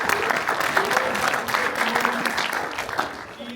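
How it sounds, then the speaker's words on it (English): A packed audience at a kung fu documentary premiere gives dense, loud applause for the filmmaker's mother, continuous overlapping clapping with a few cheers, sustained throughout. "everyone please give her a applause"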